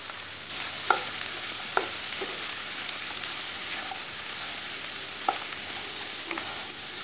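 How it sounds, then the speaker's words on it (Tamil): Diced snake gourd sautéing in a pan gives a steady, soft sizzle throughout, with a few sharp scrapes and clicks of a spatula stirring the pieces. No one speaks. "இப்போ புடலங்காய் போட்டு வதக்கிடலாம்."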